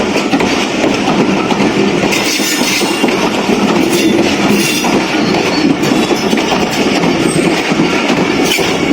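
A Shah Hussain Express passenger train runs with a steady, loud broadband roar of wheels and carriage, rhythmic clickety-clack over the rails throughout, heard from inside or close by with no talk.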